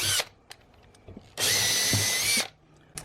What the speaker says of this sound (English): I'm going to start just with a small pilot hole with a 16th inch bit.